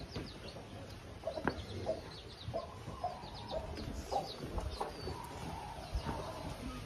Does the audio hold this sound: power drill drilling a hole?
no